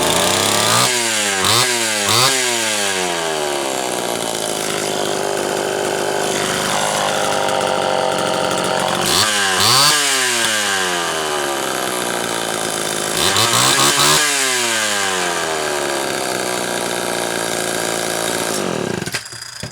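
Homelite Super XL chainsaw, freshly repaired after a chipped reed and scored cylinder, runs loudly and continuously for about twenty seconds, with several sharp revs up and back down to a rough idle, alone without talk.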